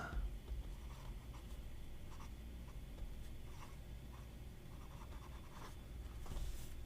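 A Montegrappa Tarvisium fountain pen with a steel nib scratches softly across paper in short, faint, repeated strokes.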